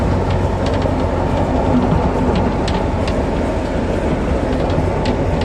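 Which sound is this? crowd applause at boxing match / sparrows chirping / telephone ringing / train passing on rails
train passing on rails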